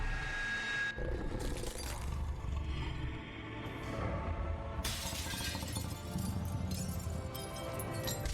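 Glass shatters and crashes in the video game The Wolf Among Us, with loud breaking bursts over a dense, roaring layer of game action that surges sharply partway through.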